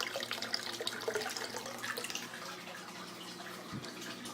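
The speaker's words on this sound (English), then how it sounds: "I'm running both of these drains." Water pouring through aquarium drains in a 29-gallon tank, a continuous trickling and gurgling rush heard close, loudest at first then settling to a softer steady flow.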